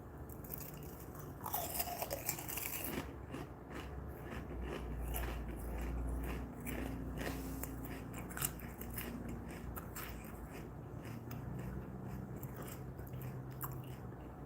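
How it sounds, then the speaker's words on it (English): Potato chips being chewed close to a microphone, a steady run of crisp crunches and bites over about fourteen seconds with no talking, set against a faint low background tone. "I was like chewing some chips here"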